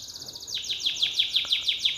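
A bird gives a quick series of bright, high chirps in a steady rhythm, repeating about eight times over a faint background hiss.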